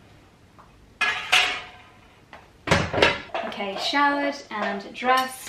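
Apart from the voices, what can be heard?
pots and pans banging in a kitchen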